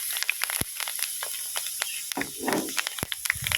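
Rice and onion go into a hot pan, giving a steady hiss and sizzle with a brief louder surge midway and a few sharp clinks of utensils.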